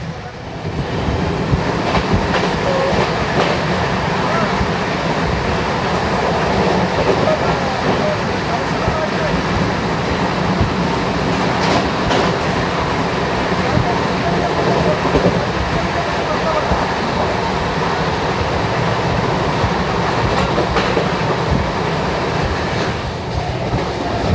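The Coromandel Express with LHB coaches on its first inaugural run, heard from on board as a continuous loud rumble and rhythmic wheel clatter throughout, with people talking over it.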